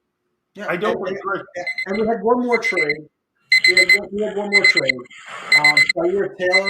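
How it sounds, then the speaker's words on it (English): An alarm clock rings in repeated bright bursts while podcast hosts keep talking over it. "That was just the alarm clock"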